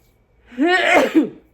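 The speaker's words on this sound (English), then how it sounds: "hold on, sneeze." A single close sneeze, a sharp indrawn build-up followed by a quick forceful burst, alone against near silence.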